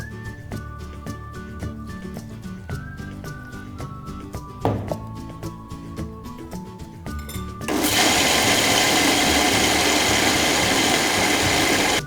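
A mixer grinder grinding cucumber dosa batter with soaked rice and a little water; light rhythmic ticking is followed by the motor starting up into a loud, steady, close grinding roar that runs to the end.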